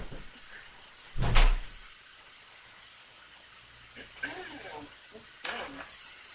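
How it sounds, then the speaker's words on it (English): A door closes with a single sharp low thump early on, followed by fainter knocks and muffled household sounds in a quiet room. "Did you guys just hear the door close?"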